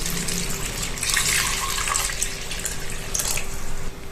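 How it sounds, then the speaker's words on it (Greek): Water runs steadily into a mixing bowl for whole-wheat sourdough bread, a continuous close splashing pour with no talking. "θα προσθέσουμε μέσα στο μπολάκι μας 400 γραμμάρια νερό"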